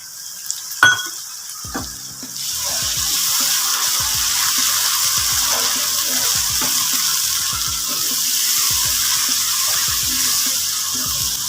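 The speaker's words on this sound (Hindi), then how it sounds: "अभी हम इसमें ऐड करेंगे थोड़ा सा पानी।" Pumpkin sabzi in a pan sizzles loudly after water is poured in, a bright continuous frying hiss accompanied by repeated scraping and stirring taps of a spoon against the pan.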